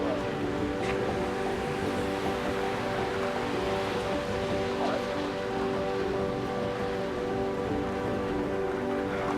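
Rain falls in the CardCollector2 video game as a steady, dense hiss of drops on a surface, even and unbroken throughout, with a faint tonal hum beneath.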